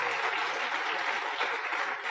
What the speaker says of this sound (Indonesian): Tepuk tangan buat Tiansi Bapak Ibu.